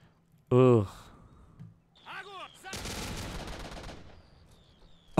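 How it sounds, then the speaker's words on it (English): A burst of 50 caliber explosive rounds firing in a Red Rising mod video game, heard as a dense, loud clatter of rapid shots lasting about a second, surrounded by a voice speaking and other brief game sounds. "That's literally like 50 caliber explosive rounds."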